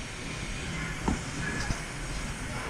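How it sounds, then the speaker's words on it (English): Train at a railway museum, a steady low rumble and hiss with a couple of soft clanks, moderately loud and continuous with no speech over it. "And there you go. There's a train."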